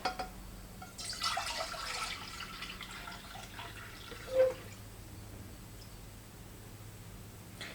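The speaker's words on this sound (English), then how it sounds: "So I'm going to fill this up to the 8 mark." Tap water runs faintly into a pot being filled with eight cups for reishi mushroom tea, a soft steady stream with a brief splash midway and quiet trickling afterward, with no voices.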